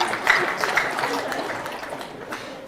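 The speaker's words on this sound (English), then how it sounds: "And all of you clap." A crowd clapping steadily throughout at a university orientation ceremony in Lira, Uganda, dense and fairly loud, with voices mixed into the applause.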